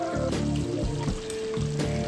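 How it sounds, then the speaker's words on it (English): Water poured from a vessel onto cornstarch to make a slurry for a bitter melon and beef stir-fry with black bean sauce; a short, close, steady trickle with kitchen clatter and no talking. "So just added a little water"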